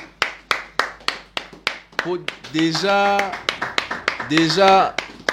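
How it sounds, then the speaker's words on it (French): An audience claps in quick, rhythmic bursts, crisp and close. A voice speaks and sings over the middle and later stretches of the clapping. "Est-ce que nous pouvons quand même applaudir, s'il vous plaît?"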